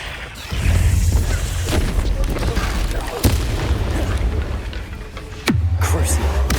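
Confringo blasting spell explosions hit in a fantasy wizard battle: a sharp crack, then heavy booming blasts with low rumbling tails, two main bursts several seconds apart under loud ongoing combat noise, with voice-like shouts mixed in.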